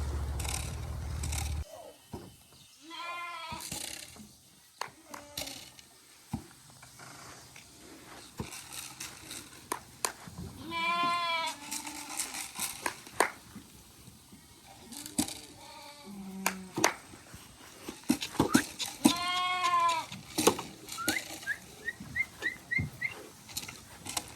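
Ram lambs and ewes bleat repeatedly while being herded during weaning, their calls rising in several bursts over a shuffling farmyard background with some faint whistling.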